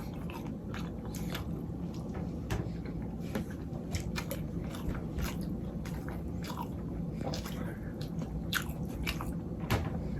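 Someone eats oatmeal mixed with banana and egg, with close, steady chewing and soft crunchy, wet mouth sounds that continue throughout without talk.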